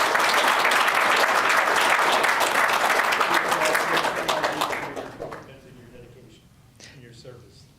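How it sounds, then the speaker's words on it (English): A crowd at a Vietnam War 50th anniversary commemoration ceremony gives staff and the mayor a round of applause, loud sustained clapping that fades out after about five seconds, followed by a quieter stretch with a voice. "Can you please give the staff and the mayor a big round of applause?"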